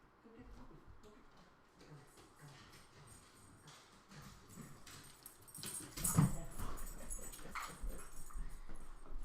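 A puppy whimpers and yips indoors in short, high, uneven cries, with some scuffling and a louder burst partway through, while someone talks over it.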